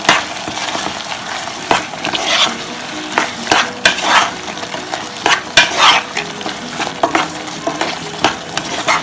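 Cucumber curry with a teaspoon of chili powder being stirred in a pan, a spoon scraping and clattering in irregular strokes over a steady close sizzle, with no talking.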